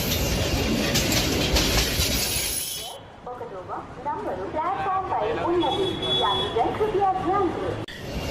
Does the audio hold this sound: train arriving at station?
yes